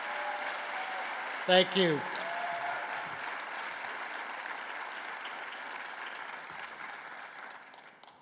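Steady audience applause at a farewell celebration runs throughout, briefly interrupted near the start by a short spoken thank-you, then continuing evenly and fading slightly toward the end.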